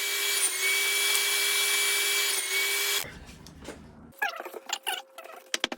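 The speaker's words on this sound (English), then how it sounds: "I'm going to cut these pieces down to size using the crosscut sled and a stop block" A saw fitted with a crosscut sled and stop block cuts tongue and groove cladding for a utility meter box cover. A loud, steady motor whine runs for about three seconds and then cuts off, followed by quiet handling and a few sharp wooden clicks and knocks.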